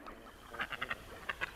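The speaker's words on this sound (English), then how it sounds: "We've got today the gadwall going bep bep bep bep bep" Gadwall duck call, a quiet run of short nasal clipped notes in two quick bursts over faint background.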